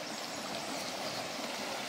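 Running water of a stream beside a rented farm plot near a river, a steady close babbling rush with bright splashy texture and no voices.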